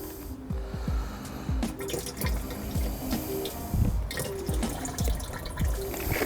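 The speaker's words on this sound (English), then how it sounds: "I'm gonna add my soil product, my fertiliser products in" Liquid fertiliser pours and glugs into a sprayer tank, with steady splashing and dripping throughout and no one speaking.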